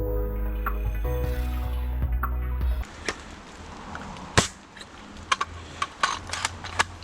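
An AGM MP003B stubby airsoft shotgun fires at a range: a few sharp cracks and mechanical clacks in a row, after a steady humming background stops.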